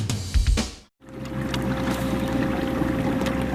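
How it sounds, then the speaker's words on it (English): A boat's front trolling motor speeds up, humming steadily on the water after a brief cut, with a constant whine and wind rushing past the microphone. "we're speeding up the troll motor on the front of the boat"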